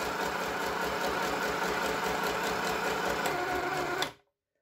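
An Action-brand sewing machine runs steadily at its slow speed, a close, continuous mechanical whir with a faint rhythmic clatter, before stopping abruptly.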